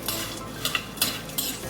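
A spoon stirs a mouth freshener mixture with black salt powder in a bowl, giving a few light scraping clinks over a faint background.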